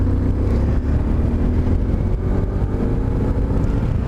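A KTM motorcycle engine braking on the road, a continuous loud engine drone mixed with rushing wind buffeting the microphone, steady throughout without pauses.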